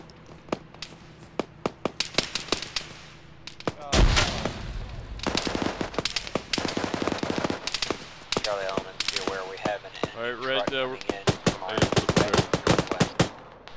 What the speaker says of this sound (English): I'm fragging the bunker, get away from it.